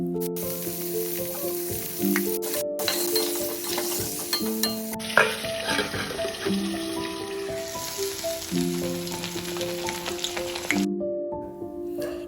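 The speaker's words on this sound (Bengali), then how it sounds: "এবার কড়াইতে সরষের তেল গরম করে আলুগুলো অল্প হলুদ গুঁড়ো আর লবণ দিয়ে লাল লাল করে ভেজে নেব।" Potatoes fry in hot mustard oil with turmeric and salt, a loud, steady close-up sizzle with stirring scrapes, over faint background music and no talking.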